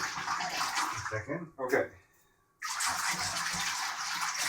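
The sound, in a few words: swishing soapy water in a tub to wash latex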